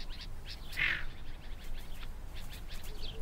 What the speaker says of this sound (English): These are chukars and sand partridges.